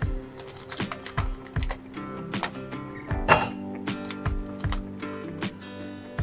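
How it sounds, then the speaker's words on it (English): Ice cubes drop into a metal cocktail shaker for a vodka Screwdriver, giving a series of sharp, close clinks and clatters at an uneven rhythm, one louder rattle in the middle. "Add few ice cubes inside the cocktail shaker."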